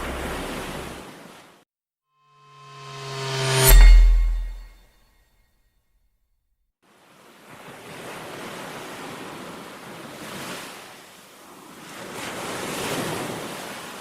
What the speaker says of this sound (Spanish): El ruido de las olas rompiendo las rocas